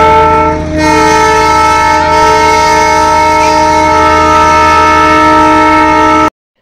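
A Darjeeling train arriving sounds one long, loud, unbroken horn blast that holds steady for about six seconds, then cuts off abruptly.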